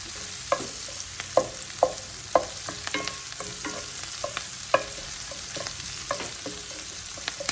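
Vegetables sweating in a pan, stirred with a wooden spoon: a soft background sizzle broken by a dozen or so sharp knocks and scrapes of the spoon at an irregular rhythm, close and with no talk.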